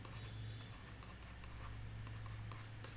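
Marker or chalk scratches across a classroom board in short, quick strokes, faint under a steady low hum during a mathematics lesson.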